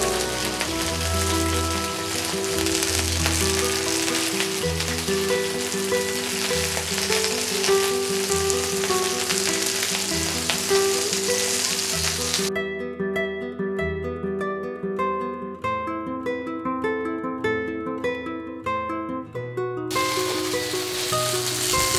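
Mushrooms frying in a paella pan give a steady, loud, dense sizzle throughout, with continuous crackle and spitting close up and background music underneath.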